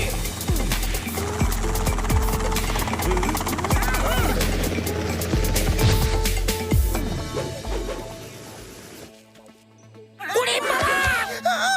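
A loud, chaotic Motu Patlu cartoon soundtrack with thudding helicopter rotor chopping, crashes and excited Hindi voices, then a brief quiet before voices return.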